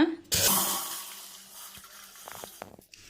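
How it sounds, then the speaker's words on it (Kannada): About a jug of water poured into a pressure cooker for cooking greens. It lands as a sudden loud splashing gush that gradually tapers off over a couple of seconds, ending with a few faint clinks. "ಈಗ ಕುಕ್ಕರ್ಗೆ ಒಂದು ಚೊಂಬಷ್ಟು ನೀರು ಹಾಕೊಳ್ಳೋಣ"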